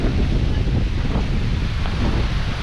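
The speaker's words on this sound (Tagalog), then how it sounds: "lakas ng hangin oh" Strong wind roars steadily across an open mountainside shrine area, a dense, continuous rushing buffet against the microphone with no voices.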